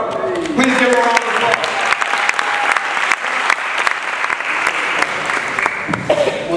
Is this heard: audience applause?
yes